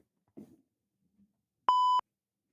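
A single steady censor bleep, about a third of a second long, sounds loudly and alone after a short faint vocal murmur, covering a swear word on a retro gaming podcast.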